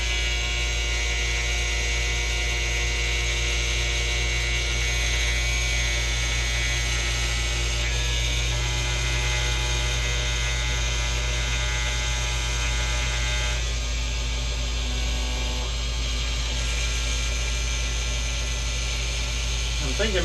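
A needle cutter machine cuts through a full sheet, giving a steady, close mechanical drone with a strong electrical hum and whining tonal overtones that shift slightly in pitch partway through, running continuously without pause.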